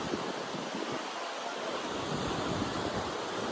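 Ocean waves breaking below a cliff at Pandan, Real Quezon make a steady, broad roar of surf that continues without a break, with wind noise mixed in.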